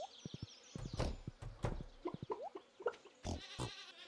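Goats bleat in the farming video game Stardew Valley, with several short nasal calls scattered over a few seconds among soft footstep-like clicks and game effects, fairly quiet and with no talking.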